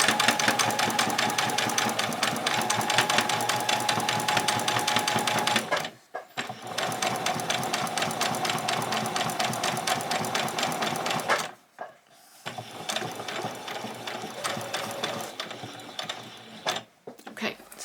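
A sewing machine runs a long stitch along a fabric edge in long continuous bursts of rapid mechanical whirring and clatter, close and loud, with brief pauses between runs.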